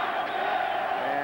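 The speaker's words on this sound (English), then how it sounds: "Ranchero, they're chanting." A boxing crowd chants and roars "Ranchero" in support of a fighter, a dense, continuous wall of many voices filling the arena without pause.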